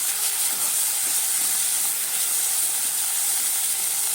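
Pirandai (adamant creeper) and other chutney ingredients sauté in a pan, giving a steady, even hiss that holds without a break and with no voices.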